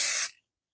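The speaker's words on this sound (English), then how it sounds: "I'm just going to spray over the batting, just 1 line of spray, just enough to hold the top to it" A single short burst of spray adhesive hisses across quilt batting, loud and close, then cuts off sharply after about a third of a second, leaving silence.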